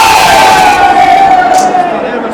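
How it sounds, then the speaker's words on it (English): Crowd noise from a football video game in a PES 2 vs 2 co-op tournament knockout match, a loud sustained roar with cheering swelling and fading, heard alone over the short span. "you can hear how the crowd are reacting to this too"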